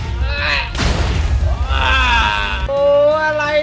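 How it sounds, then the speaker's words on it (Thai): Giant creeper explosions in the Minecraft video game: one loud booming blast bursts out about a second in, surrounded by tonal game sounds and a voice. "ระเบิดไม่หยุดเลย"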